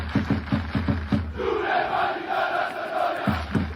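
Football ultras chant together in a stadium crowd, a rhythmic mass of voices with punchy beats at the start and end and a sustained, roaring group cry through the middle, loud and close.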